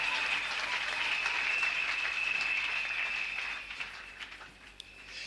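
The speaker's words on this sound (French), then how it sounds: "Acclame très fort pour toi-même." Church congregation applauding at a Sunday service, a dense, sustained wash of clapping that holds steady for several seconds, then thins and fades toward the end.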